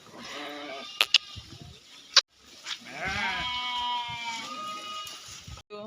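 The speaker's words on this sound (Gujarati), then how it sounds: "ધણ નીકળ્યું ઘેટાનું આખું જોરદાર ઘેટા વકરા જોઈ લે" A huge flock of sheep and goats moving along in a long line bleats constantly, with overlapping nearby cries rising and falling and a few sharp clacks in between.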